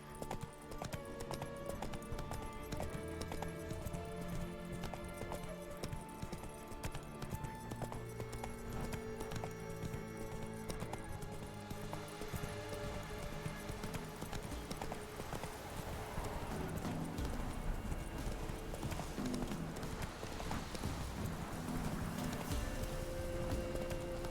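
A horse gallops in The Witcher 3: Wild Hunt, with quick, rhythmic clip-clop hoofbeats running steadily throughout over a layer of in-game music.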